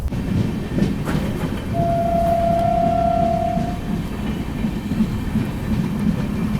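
The Shri Shakti AC Express runs through dense fog near Rajpura Junction, a steady, loud rumble of wheels and carriage noise heard from on board, with a faint horn sounding briefly mid-clip.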